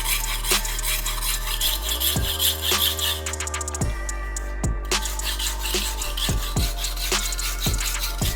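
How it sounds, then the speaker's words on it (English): Akafusa chef's knife sharpened on a coarse 120 grit Japanese whetstone, with steady repeated rasping strokes of steel on wet stone, close and fairly loud, over a faint tonal background. "Because this is quite an aggressive stone, being a 120, it's not really taking me that long to get a burr on this Akafusa."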